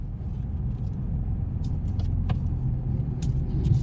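Car creeping forward during a driving lesson, a low steady engine and road rumble heard from inside the cabin with a few faint clicks and no talk.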